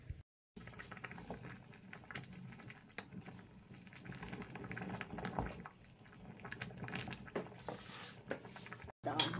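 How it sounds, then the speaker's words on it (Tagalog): Pumpkin soup boiling in a pot, a faint soft bubbling and popping patter that runs on steadily, with short breaks near the start and at the end. "This start boiling. We just have to wait a bit"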